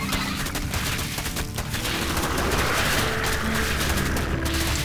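A siege tank fires in StarCraft 2 amid a dense battle, rapid overlapping gunfire bursts and booms forming a continuous loud barrage with no talking.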